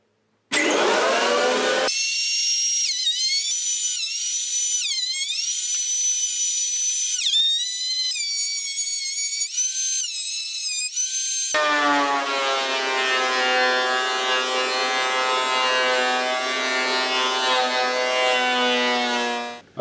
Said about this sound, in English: So get the thicknesser out and get everything down to size.